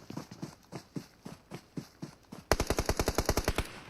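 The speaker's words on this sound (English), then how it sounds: "Shots on Sense." Gunfire in a PUBG Mobile esports match: spaced single shots at moderate level, then a fast, louder burst of automatic fire close by, each report sharp and evenly timed.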